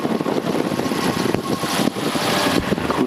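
Engine and propeller of an autogyro in flight, heard from on board as a loud, steady droning roar with wind noise that barely changes throughout.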